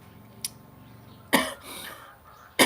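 A person coughs in short bursts, a small one early, then a louder harsh cough in the middle and another at the end, close and otherwise quiet.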